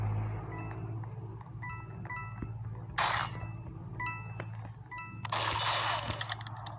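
Gunshots fired in the Roblox game Murder Mystery 2: two loud, sharp bursts, one short and one longer and rougher, break through a steady bed of game music and chiming tones. No one talks.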